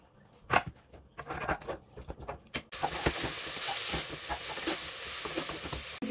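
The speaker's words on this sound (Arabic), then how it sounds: "غادي ندير فيها الزيت، غادي نزيد طريفات ديال الدجاج اللي قطعتهم هكا صغيورين" Small chicken pieces dropped into hot oil in a pot: a few clattering knocks, then a sudden loud, steady sizzle and hiss that continues close up, with no talk.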